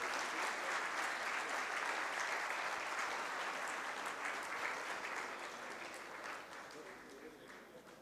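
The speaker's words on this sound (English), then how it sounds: "Please give him a round of applause, please." An audience in a hall gives sustained applause, a dense wash of clapping that holds steady and then slowly tapers, heard from within the crowd.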